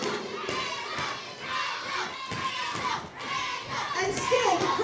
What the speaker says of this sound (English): And still the crowd well and truly behind.